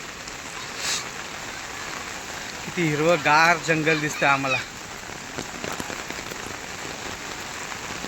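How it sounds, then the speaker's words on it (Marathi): Heavy monsoon rain pours in the Sahyadri hills, a dense, steady patter on surfaces throughout, while someone speaks briefly in the middle. "बघा किती पाऊस पडतोय"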